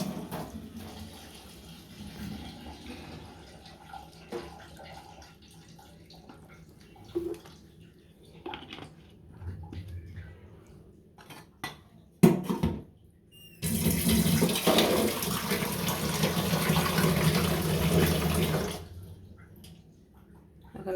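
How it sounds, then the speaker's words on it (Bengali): Hands are washed under a running kitchen tap, a steady loud rush of water lasting about five seconds after quieter kitchen clatter and a few knocks. "হাতটা ধুয়ে নিই।"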